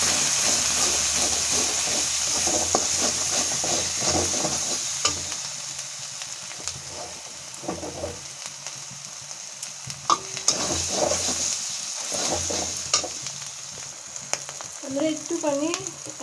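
Spiced eggplant with a pinch of sugar fried and stirred in a pan, loud crackling sizzle with repeated spatula scrapes and knocks, easing toward a quieter simmer near the end.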